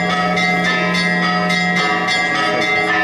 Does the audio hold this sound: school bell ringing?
yes